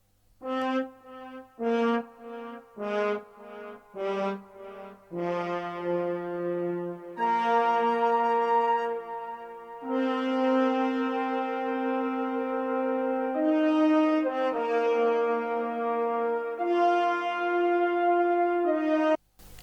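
Horn and flute from Sinful Orchestra play a melody for a groovy hip hop sample, a run of short detached notes giving way to long held tones, loud and alone with no other instruments.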